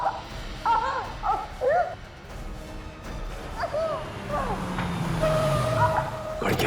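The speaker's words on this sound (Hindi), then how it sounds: "गाड़ी की आवाज।" A car arrives at night, its low engine rumble rising and fading under dramatic speech and background music.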